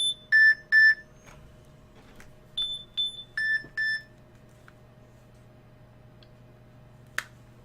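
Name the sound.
phone alarm beeping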